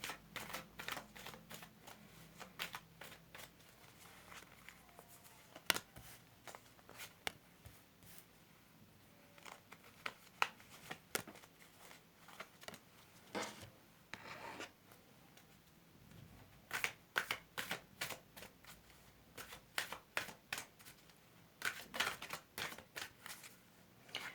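Tarot cards are shuffled by hand in a quiet room, making a long run of faint, soft, irregular slaps and riffling taps that bunch together in places and stop in others, with no voice heard.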